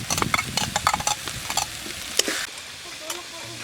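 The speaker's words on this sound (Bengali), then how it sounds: "আদা রসুনের কাঁচা গন্ধটা যতক্ষণ না যাচ্ছে ততক্ষণ এটা একটু কষিয়ে নেব" Ginger-garlic paste and spices sauté in a pan, with steady close sizzling and frequent scraping stirs. The stirring is busy at first, then eases into a quieter fry with a few sharp clinks.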